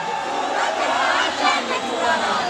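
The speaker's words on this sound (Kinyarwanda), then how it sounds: "mukomera amashyi menshi" A large crowd at the PRIMUSIC 2023 concert in Rwanda cheers, shouts and claps in a dense, steady roar that holds loud and unbroken throughout.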